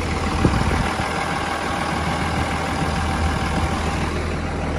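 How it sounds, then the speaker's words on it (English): A Ford F750 diesel truck idles steadily, a constant low, throbbing rumble with a droning hum that stays even and moderately loud throughout, no voices over it. "Sounds like a diesel."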